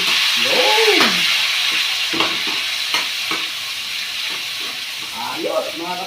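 Tomatoes dropped into a hot pan and stirred for kinamatisang leddeg, a continuous close sizzle and hiss with scraping stirs, while a voice speaks intermittently over the frying.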